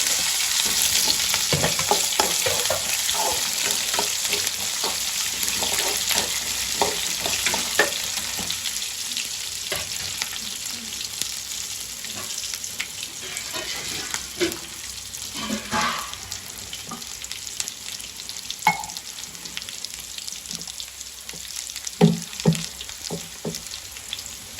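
Chopped onions and tempering spices fry in a hot pan, giving a steady, close sizzle with scattered pops and the scrape of stirring running throughout, no voices.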